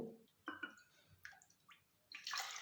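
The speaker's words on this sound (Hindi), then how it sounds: "इसी कटोरी से नाप कर मैं 5 कटोरी पानी डाल रही हूँ" Water is poured from a small bowl into a cooking pot of raw rice, a few short splashing pours separated by pauses, ending in a louder, longer gush.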